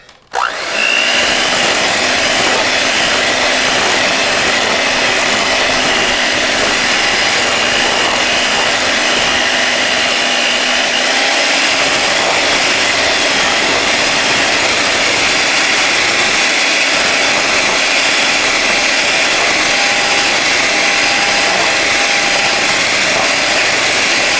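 An electric mixer whips batter in a home kitchen, starting abruptly and then running as a loud, steady motor whine with a constant hum for over twenty seconds, with no voices.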